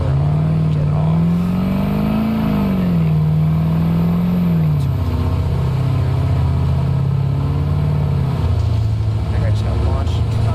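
A car engine in BeamNG.drive held at high over-revving RPM, a loud sustained droning whine that wavers in pitch and then drops slightly, close and continuous while someone talks over it.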